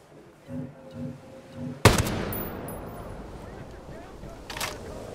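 A single loud sniper rifle shot in the Ghost Recon video game, a sharp crack followed by a long decaying echo and a faint later report, after a quiet stretch with soft low tones and a brief voice.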